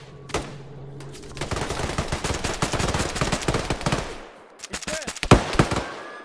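Gunfire in the military video game ARMA 3: rapid automatic bursts keep up for a few seconds, then give way to several separate, sharper shots close by.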